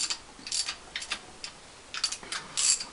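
Studs and bolts are screwed by hand into a Wolseley WD2 during restoration, producing faint, intermittent metallic scraping and ratcheting clicks in short bursts, close up with no talk.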